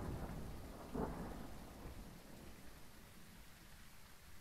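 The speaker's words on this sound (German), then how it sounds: "der Donner!" Thunder during a storm in the video game Phasmophobia, a low rumbling roll that swells briefly and then fades, faint and distant beneath a steady hiss of rain, with no voices.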